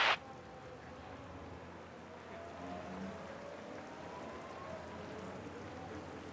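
Steady rain hisses in the F1 Manager 22 video game, a faint, even wash that runs continuously throughout after a brief sharp click at the start.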